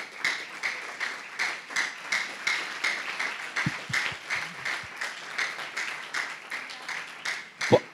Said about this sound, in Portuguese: Dá uma salva de palmas mais alto